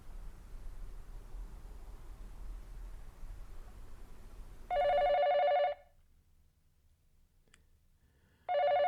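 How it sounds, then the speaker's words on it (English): Telephone ringing in the video game 428 Shibuya Scramble: a loud electronic ring burst after a stretch of steady background hiss, then near silence before a second ring starts at the very end. "The phone rang, cutting him off before he could get down to business."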